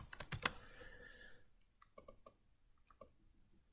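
A computer keyboard clatters with quick key presses in a short burst at first, then scattered single clicks, close and fairly quiet, in an otherwise still room.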